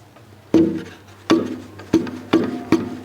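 Knuckle taps on an acoustic guitar top with freshly glued, untuned braces, five separate woody knocks with short hollow ringing, spaced irregularly and close up with no talking.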